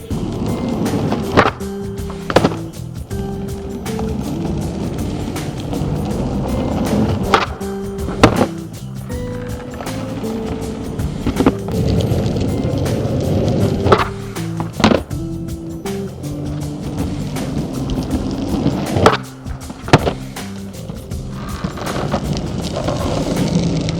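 A skateboard is ridden and big spin tricks are landed, with continuous wheel rumble on pavement broken by repeated sharp wooden pops and board slaps at irregular intervals, loud and close.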